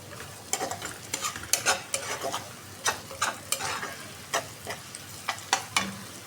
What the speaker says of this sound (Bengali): বেরেস্তাটা করে নিতেছি